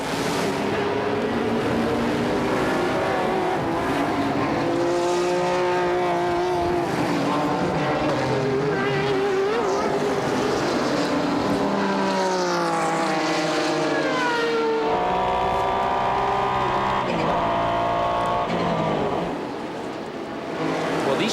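Turbocharged sports prototype race car at a Petit Le Mans endurance race, engine roaring loud and continuous as it climbs through second and third gear with rising pitch sweeps and gear-change drops, faint commentary underneath.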